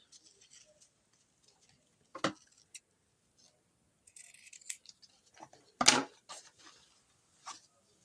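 Scissors snip through a fabric strap to cut it to length, a few short crisp cuts spaced apart in a quiet room.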